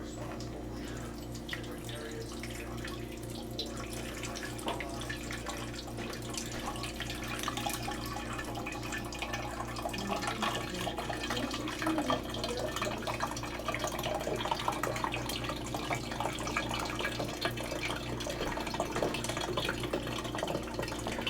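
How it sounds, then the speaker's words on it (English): Cold tap water poured slowly from a spouted container into the reservoir of a Keurig K Brew and Chill coffee maker, a steady, soft trickling and splashing that runs continuously at a moderate, even level with no talking. "so it says to preferably have it with a spout and just pour slow"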